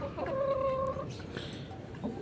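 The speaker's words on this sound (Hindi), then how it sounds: "आज आपको शो कराते हैं जावा मुर्गा, साथ दो मुश्की मादियाँ" A Java rooster kept with two black hens gives a short run of clucking and crowing-like calls, fairly close, over faint background noise.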